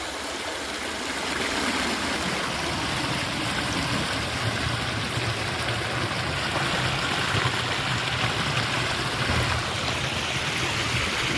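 Water from an irrigation pump motor gushes steadily into a small earthen field channel on farmland, a continuous close rushing flow with no pauses and no talking.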